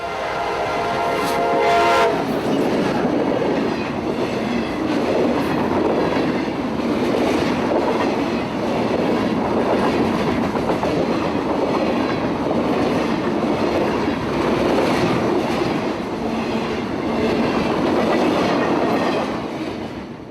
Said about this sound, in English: here is A773, the Waycross to Yulee, Florida local, nicknamed the Fernandina Rocket. This morning, sporting SD40 power.